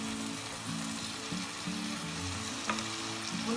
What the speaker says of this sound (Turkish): güzelce kavrulsunlar